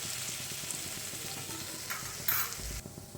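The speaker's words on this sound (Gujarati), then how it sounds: "આદુ અને મરચાંની પેસ્ટ છે એ ઉમેરી લઈએ. એને થોડી સંતળાવા દઈએ." Ginger and green chili paste fries in hot oil with cumin, giving a close, steady sizzle broken by the scrape of stirring and a brief louder flare of frying near the end. No one speaks.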